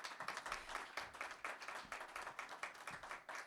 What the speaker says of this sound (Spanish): pido un fuerte aplauso para su presencia el día de hoy